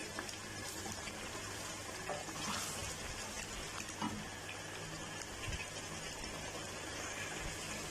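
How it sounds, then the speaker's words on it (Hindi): Oil for a mutton karahi curry frying in a handi pot, giving a steady, moderately loud sizzle that runs unbroken with soft crackles throughout. "पाँच मिनट के लिए तकरीबन ऑयल को हम अच्छी तरह भून लेंगे"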